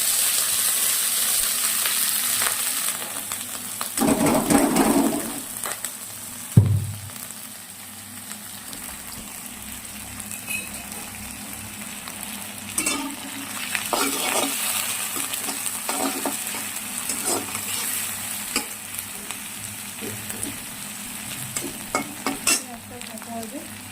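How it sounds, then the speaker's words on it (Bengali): Chopped onions sizzle in hot oil in a home kitchen, a steady crackling fry that runs throughout. A utensil stirs and knocks now and then, and one louder clatter comes early on. "এদিকে কুচনো পেঁয়াজ, আমি তেলে কুচনো পেঁয়াজগুলো দিয়ে দিলাম"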